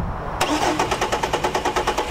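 A 2007 Chevrolet Trailblazer cranks with a rapid, even rhythm of starter pulses, close up and fairly loud, with no speech over it.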